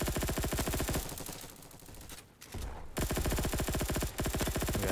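Video game gunfire, rapid automatic bursts that pound loudly and continuously, breaking off briefly in the middle before resuming as a steady rattle.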